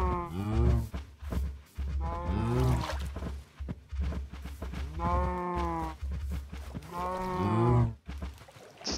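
Cows in a video game mooing repeatedly, several drawn-out moos in a loose rhythm over a low steady hum, close and clear.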